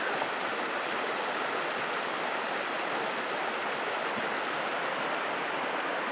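Little Elbow Creek in Kananaskis flows past, a constant, close broadband rush of running water with no breaks or other sounds.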